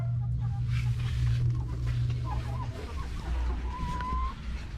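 Backyard laying hens clucking intermittently at moderate distance over a low mechanical hum, with faint human sounds in the background.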